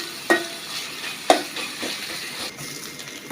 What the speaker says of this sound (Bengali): তেল দিয়ে নিলাম পেঁয়াজ কুচি দিয়ে দিলাম একটু বাইজে নিতে হবে